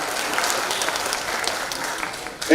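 Applause from an audience at an OBC associations' honouring ceremony, a steady wash of many hands clapping close by for a couple of seconds with no speech over it.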